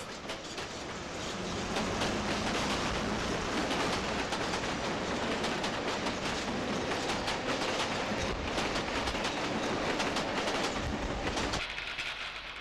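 London Underground Bakerloo line empty stock train from Stonebridge Depot speeding through Harlesden station, a loud rushing rumble with rhythmic clatter of wheels that builds quickly, holds close and steady, then drops away abruptly near the end.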